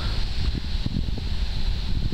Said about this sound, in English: it's very cold and windy on the beach today